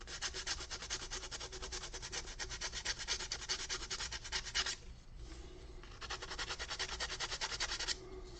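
Rhythmic back-and-forth sanding of a wooden Star Trek USS Enterprise model, close and steady, with a brief pause midway before the scraping strokes resume.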